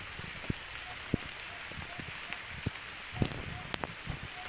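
Rain falls steadily under an overcast sky at a high outdoor spot, a soft continuous patter broken by scattered louder drops landing nearby.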